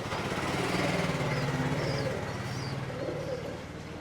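Pigeons coo in low, soft bursts against a steady mechanical hum in narrow old-city lanes of Multan, the calls repeating close by.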